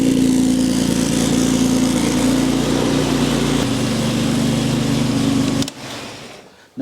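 Jaguar XJ6 4.2 litre engine idling with its twin carburetors freshly adjusted, giving a steady close rumble that drops slightly partway through before cutting off near the end.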